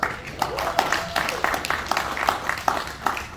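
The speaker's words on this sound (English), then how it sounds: "round of applause" Scattered applause from the audience at a boxing press conference, a few distinct claps rising over a murmuring room, fairly close and moderate in volume.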